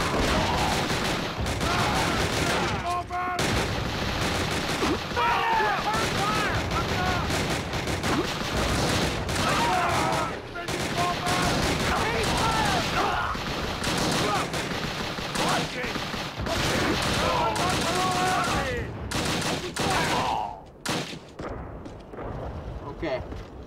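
Dense battlefield gunfire from Call of Duty: Roads to Victory rattles on without a break, with rifle and machine-gun bursts and heavy booms, while soldiers shout under the din.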